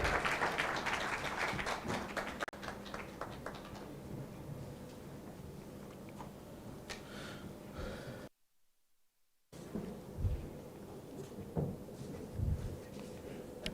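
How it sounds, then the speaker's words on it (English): Audience applause for a keynote speaker at an international conference on climate action, irregular migration and zero hunger: dense, steady clapping that fills the hall, breaks off briefly, then resumes in scattered bursts. "Please give him a loud round of applause."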